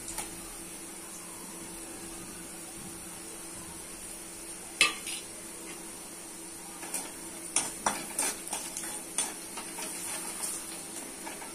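Chopped onion fried until red with turmeric, chilli, coriander, cumin powder and salt in a pan: a faint steady sizzle underneath, broken later by sharp clinks and scrapes of a spoon stirring against the metal.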